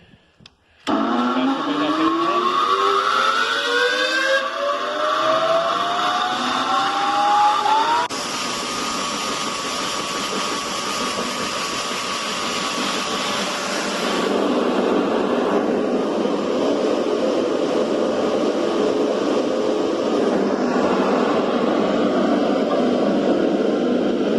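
A pneumatic grain conveyor's two-speed motor gives a loud, steady roar with a rising whine that shifts pitch as it speeds up, then settles into a constant airy drone.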